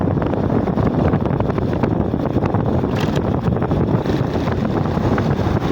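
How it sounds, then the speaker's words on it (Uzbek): Riding a motor scooter along a street, heard as loud, steady wind buffeting on the microphone over a low engine rumble, continuous for several seconds with no voices. "Shu o'zimda skuterimda mana ketyapman."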